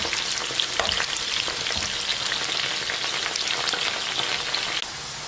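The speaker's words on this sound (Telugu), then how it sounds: "వీటిని మధ్య మధ్యలో తిప్పుకుంటూ ఎర్రగా క్రిస్పీగా అయ్యే వరకు కూడా వేయించుకోండి." Meal maker (soya chunk) pakodi deep-frying in hot oil, a dense, steady crackling sizzle that runs close and loud throughout, with occasional stirring, easing slightly at the very end.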